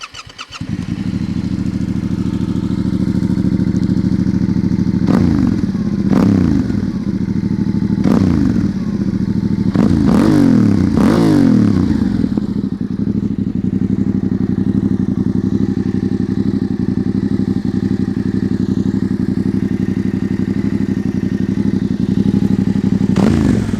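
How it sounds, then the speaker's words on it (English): A Yamaha Tenere 700 World Raid motorcycle engine starts with a clattering crank and settles into a loud, close idle, then gets several sharp blips of the throttle before returning to a steady rumble, with no one speaking. "give a good impression of how the bike sounds on camera, but I will start it up, rev it a little bit"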